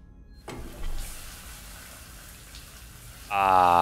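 Steady hissing rain patter in the video game Alien: Isolation, moderately loud, fills the scene after a brief silent start, ending with a louder tonal swell.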